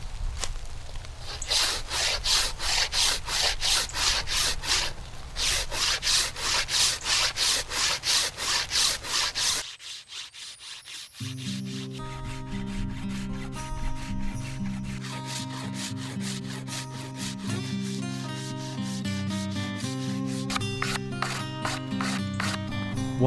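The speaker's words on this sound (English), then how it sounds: "using a scraper or a rasp at this moment is going to be my best approach" A scraper or rasp works a wooden bow stave with rhythmic rasping strokes, loud and close, pausing briefly before a different steadier scraping pattern continues.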